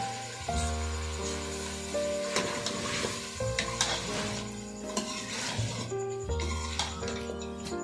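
Mutton frying in a pot while potatoes are added, with a steady sizzle, scraping stirs and clanks of a spoon against the metal pot, under background music.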